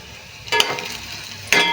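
Onions sizzle and crackle in a hot pan, with two louder bursts as they are stirred, steady frying hiss between them.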